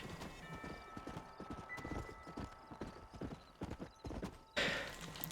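Horse hooves clip-clop steadily in Red Dead Redemption, a rhythmic run of close hoofbeats with a brief whinny near the end over a low game backdrop.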